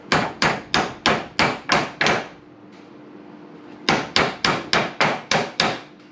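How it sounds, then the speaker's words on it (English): Steady hammer blows ring out close and loud while building a plywood cart, about seven evenly spaced strikes, a brief pause with a low hum, then another run of strikes. "You have to use a hammer to load it down."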